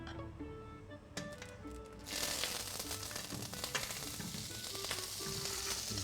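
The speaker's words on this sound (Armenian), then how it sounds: "Եվ նույն տապակի մեջ շարունակում ենք տապակել Այո, նույն միսը։" Meat frying in butter in a pan, sizzling steadily and close, quieter at first and then jumping to a loud, dense crackle after about two seconds, with light stirring scrapes and no voices.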